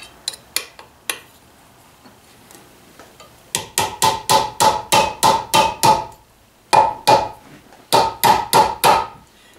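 A hammer strikes a chisel against a John Deere AR clutch bearing, sharp metallic blows landing in steady runs of eight or so with short pauses, near and loud, preceded by a few lighter taps.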